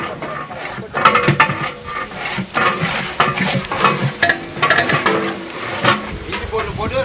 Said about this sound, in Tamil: இஞ்சி பூண்டு போட்டு 2 நல்லா வதக்கணும்.